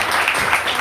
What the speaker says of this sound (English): Please give him another massive round of applause.